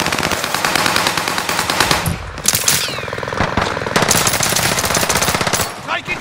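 Loud rapid automatic gunfire rattles from a shooter video game, sustained bursts nearly continuous over several seconds with brief gaps, close and dense.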